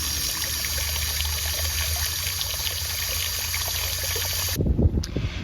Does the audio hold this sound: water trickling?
yes